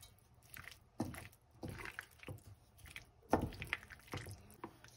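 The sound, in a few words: pasta being stirred into a creamy sauce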